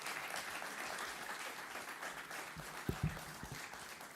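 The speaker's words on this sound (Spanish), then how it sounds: "Un fuerte aplauso por la presentación de cada uno de ellos." An audience applauds after a panel presentation at a conference hall, a dense, sustained clapping that fills the room at moderate distance, with a few sharper individual claps toward the end.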